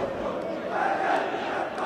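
Stadium crowd at a Karpaty vs Stal football match in Lviv applauds and roars just after a penalty goal, a steady dense wash of cheering with a swell in the middle.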